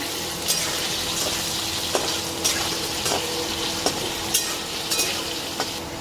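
Potatoes frying in oil until reddish-brown, crackling with a loud, continuous sizzle broken by periodic sharp stirring clicks, no one speaking.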